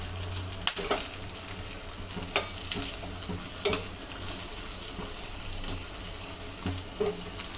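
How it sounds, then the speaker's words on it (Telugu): Cashews browning in oil in a pan along with curry leaves for a pongal tempering, a steady crackling sizzle with occasional spoon stirs and scrapes, close and continuous with no talking. "ఇవన్నీ దూరగా వేయించుకోవాలి కాజు దూరగా అయ్యేంత వరకు కొంచెం బ్రౌన్ కలర్ వస్తే చాలు"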